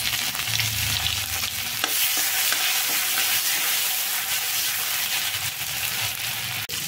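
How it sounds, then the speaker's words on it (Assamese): Ginger garlic paste fries in a pan with a steady, close sizzle, occasional scrapes of stirring breaking through the constant crackle. "ইয়াতে এতিয়া প্ৰথমতে এই আদা নহৰু বটা দি দিম"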